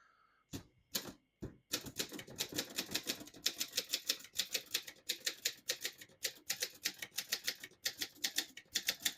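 Rapid, uneven keystrikes on a 1958 Voss De Luxe ST24 portable typewriter, with a few isolated taps before steady bursts of close, crisp mechanical clacks and no voices.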